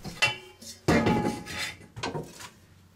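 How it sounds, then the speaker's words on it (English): Dishes, pots and utensils clatter and clink as they are taken out of a camper, a few close, sharp bursts of metal and stainless steel knocking together with brief pauses between. "You know, dishes, I'll get the dishes taken inside, and there's some good stainless steel storage stuff."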